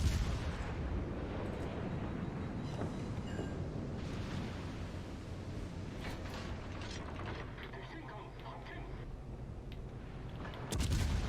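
Naval gunfire in the game World of Warships Legends, with a Japanese destroyer under fire: a dense bed of booming cannon blasts, rumbling explosions and mechanical noise continues throughout, with a final loud burst near the end.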